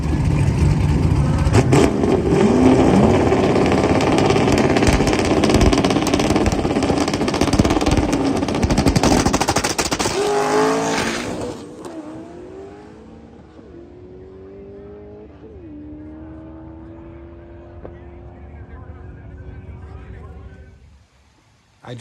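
A small-block Ford Dart 427 twin-turbo stick-shift Mustang street car starts cold and revs loudly for about ten seconds, then settles into a lumpy, uneven idle with rising and falling pitch.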